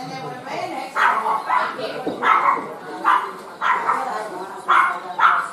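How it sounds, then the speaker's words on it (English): A dog barks repeatedly at close range in an Irish pub, sharp loud barks in irregular bursts every half second or so, with people talking in the background. "And the dog's not happy."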